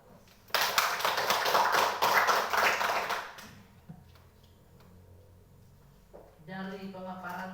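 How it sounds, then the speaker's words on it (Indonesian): Applause from an audience at a school principal's performance assessment presentation, a burst of clapping lasting about three seconds before fading, followed by quiet room sound and a person starting to speak. "kita beri aplaus"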